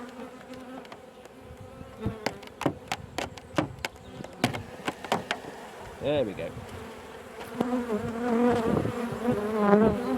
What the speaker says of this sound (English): there are a load of bees coming out of here now